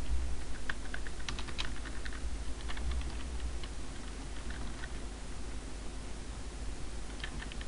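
Computer keyboard keys clatter in quick irregular bursts of typing over a steady background hum, with pauses between runs.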